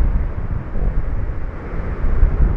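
Loud, steady wind roar from the horror video game Ao Oni, a dense low rumble that swells and eases slightly without a break, heard alone with no voices.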